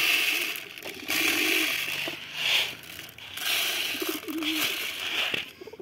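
Pigeons coo repeatedly in a loft after being fed, their soft rolling calls overlapping with rustling and faint scratchy movement throughout.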